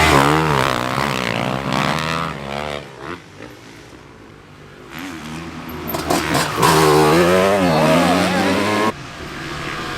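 Motocross dirt bike engine revving during a private riding lesson, repeated rising and falling revs up close with brief drops, mixed with people talking.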